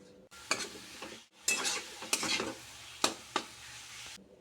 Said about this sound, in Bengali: ভালো করে দিয়ে নাড়িয়ে ওর মধ্যে নুন হলুদ আর জিরের গুঁড়ো দিয়ে আবার একটু নেড়ে নেব।